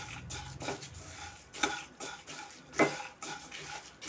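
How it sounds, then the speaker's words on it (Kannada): Puffed rice being stirred by hand with peanuts and dry coconut for spicy khara mandakki, giving a dry rustling scrape with a few louder clinks against the pot, close and steady with no talking. "ಕಳೆ ಬೀಜ ಪಪ್ಪು ಮತ್ತು ಒಣ ಕೊಬ್ಬರಿ ಸೇರಿಸಿ ಚೆನ್ನಾಗಿ ನಾನು ಮಿಕ್ಸ್ ಮಾಡ್ತಾಯಿದ್ದೀನಿ"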